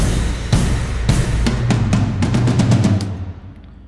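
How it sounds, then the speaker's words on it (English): A heavy film-score drum track built in Logic Pro X, booming low hits and crashes with a rising flurry of strikes toward the end before the sound decays away, loud and alone. "So that is the sound of the drums,"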